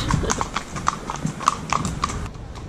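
Horses' hooves clip-clop in an irregular walking rhythm on a long ride across Ireland, with clear repeated hoof strikes close by over faint background noise.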